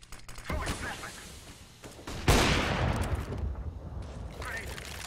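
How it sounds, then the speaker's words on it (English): A flashbang grenade goes off in a video game firefight, a sharp bang followed by a long rushing roar. Scattered gunshots come before it and a voice talks throughout. "Throwing a flashbang"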